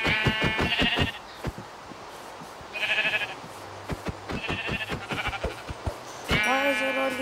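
Sheep in the Minecraft video game bleat several times in short, separate calls, with clicking and hitting sounds in between and a louder bleat at the end, without speech.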